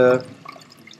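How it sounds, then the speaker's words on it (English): Fermented coffee soda being strained gives a single brief liquid splash followed by faint, scattered drips, close and otherwise quiet. "So let's just get rid of the lemon pulp and seeds if they fell in there, and maybe strain out."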